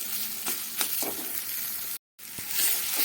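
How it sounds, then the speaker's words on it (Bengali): Mashed fig (dumur) sizzles gently in a pan as it is stirred and fried dry, a soft continuous hiss with a few light scraping ticks and one brief dropout. "আস্তে আস্তে ভাজা ভাজা করবো।"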